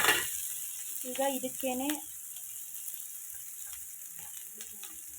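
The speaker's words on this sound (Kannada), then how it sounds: "ಹಾಕೊಂಡು ಫ್ರೈ ಮಾಡ್ಕೊಳ್ಳಿ" Dried red chillies and salt sizzle and fry in hot oil for lemon rice, a steady close crackle with a voice talking over the first two seconds before the frying carries on mostly alone.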